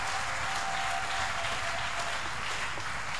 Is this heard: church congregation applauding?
yes